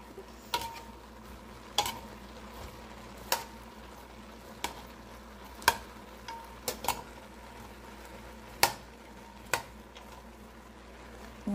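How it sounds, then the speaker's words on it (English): A spoon stirs a simmering pot of food, with a string of sharp taps and scrapes at irregular intervals over a steady low bubbling background. "And stir it around and let that simmer too."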